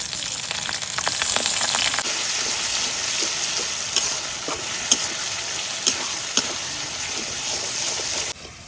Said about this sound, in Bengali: এখন একে একে দিয়ে দিতেছি আদা বাটা, রসুন বাটা, আর যে পেঁয়াজটা বাইটা রাখছিলাম ওই পেঁয়াজ বাটা দাও।